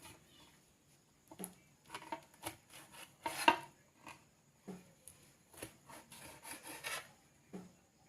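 A knife cuts steamed, cooled colocasia leaf rolls (alu vadi) into pieces on a board, giving a series of short, soft scraping chops at an uneven pace, fairly close and quiet, with no talk.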